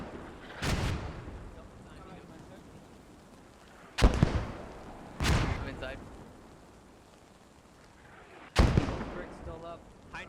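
Mortar fire in the WWII shooter Post Scriptum, four separate heavy thuds spaced a few seconds apart, each with a rumbling tail, while players talk faintly between the blasts.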